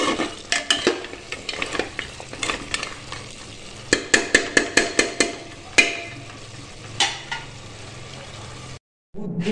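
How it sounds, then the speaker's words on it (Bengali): Onions being stirred in a pressure cooker, a spoon scraping and clinking against the metal pot in quick irregular strokes over a low frying sizzle, close by. "আর একটু কষুক, তারপরে পেঁয়াজগুলো আর একটু গলা গলা হোক"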